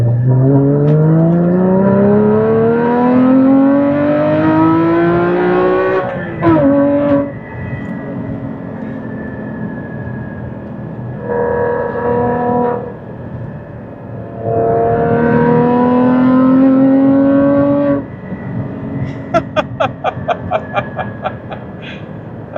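Manual 2016 Porsche Cayman GT4 with factory exhaust, its engine climbing through the revs in loud, rising pulls, then dropping sharply as it downshifts, repeated several times, with short crackles near the end.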